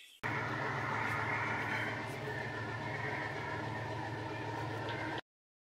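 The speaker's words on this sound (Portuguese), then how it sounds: "O barulho que vocês estão vendo aí é do trem que está passando lá na linha." A train passes on a nearby railway line, heard as a steady, loud rumble that fills the whole stretch evenly and then cuts off abruptly near the end.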